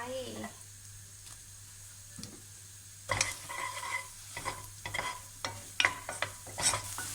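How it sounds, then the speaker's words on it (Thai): Bread fries in melted butter in a pot with a steady sizzle, punctuated by repeated scraping and stirring strokes that grow busier partway through as it browns, heard close. "พอเนยละลายแล้วนะคะใส่ขนมปังลงไป"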